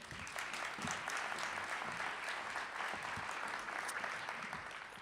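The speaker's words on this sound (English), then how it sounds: "Another round of applause for Dave Murphy." A crowd applauds steadily throughout, dense clapping at an even level from start to finish with no voices.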